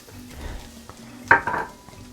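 Chopped onion tipped into a pan of browning ground beef for tacos, a clattering drop and sharp burst of sizzle following quiet stirring and utensil taps against the pan.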